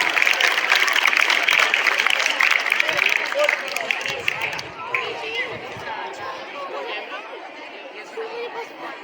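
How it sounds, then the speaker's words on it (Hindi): Crowd applause at a school annual function, loud and dense for several seconds before fading into murmuring chatter and background voices of the gathered audience. "एक बार फिर से तालियां"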